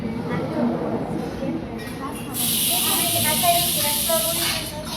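People talk continuously while a pressure cooker starts a strong, steady hiss of escaping steam partway through, which keeps going under their voices to the end.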